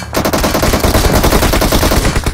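Loud, rapid automatic gunfire from PUBG Mobile, one continuous burst of tightly spaced shots rattling for the whole stretch with no pause and no talking.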